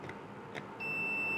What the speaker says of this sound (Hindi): बज़र की आवाज़ आपको ऑलरेडी सुनाई दे रही है।